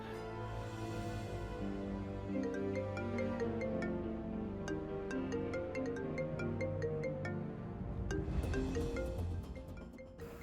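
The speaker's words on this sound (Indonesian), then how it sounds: "saya harus angkat telepon ini di luar" A phone ringtone plays a repeating melodic tune at moderate volume for around eight seconds, followed by a brief burst of rustling noise, with no speech.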